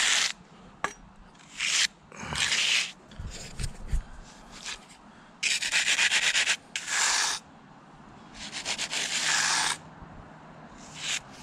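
A float rubbed over a freshly poured concrete slab for a monolithic hot tub pad, giving repeated raspy scraping strokes in uneven bursts, close and fairly loud.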